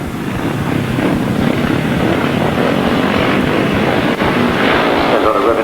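Grasstrack racing motorcycles at a 1993 meeting rev and pull away from the start in a loud, continuous broadband roar that holds steady throughout, with a voice faintly under the engine noise.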